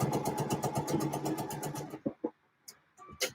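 A sewing machine stitches skirt panel seams in a rapid, even run of needle strokes for about two seconds, then stops, leaving a few short clicks and knocks from handling the fabric.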